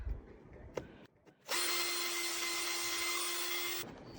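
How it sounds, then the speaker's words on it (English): A power drill pre-drills a pilot hole into wood for a screw, running in one steady, loud whine of about two seconds after a few faint handling knocks, then spinning down. "We'll just pre-drill."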